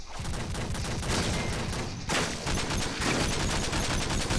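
Gunfire in an online shooter video game, a dense, continuous stream of rapid shots that runs unbroken through the clip with brief shifts in intensity.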